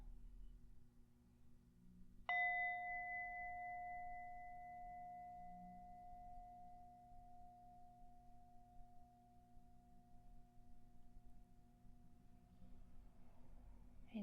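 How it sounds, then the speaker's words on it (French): A soft gong is struck once and rings out as a clear, sustained tone that fades slowly over many seconds against quiet background hum, with no talking during the ring. "tu vas entendre le son préféré de Mia, ce doux gong."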